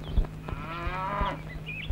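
A cow lets out a single drawn-out moo close by, with faint background hum and a few soft thumps around it.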